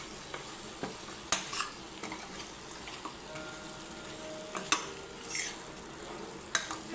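Mutton is mixed with spice powders in a pan, with scraping and occasional sharp clinks of a utensil against metal over a faint sizzle, fairly quiet and close.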